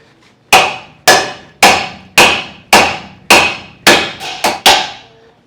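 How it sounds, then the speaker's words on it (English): Loud metal hammer blows strike the front end of a 1946 Ford coupe, eight sharp ringing hits in a steady rhythm with a quick double strike near the end, no talking. "Maybe hammer it back a bit."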